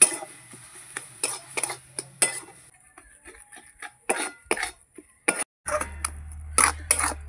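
Coconut filling with jaggery is stirred in a pan, with a series of short, distinct scraping and tapping knocks of a spoon against the metal, separated by quiet gaps.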